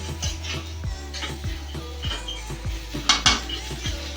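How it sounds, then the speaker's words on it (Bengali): Khichuri ingredients being sautéed in a pot, with repeated metal scrapes and clinks of a spoon against the pot in a steady rhythm and a faint sizzle beneath, close and moderately loud, with no talking. "এভাবে দুই মিনিট সময় ধরে কষিয়ে নিতে হবে"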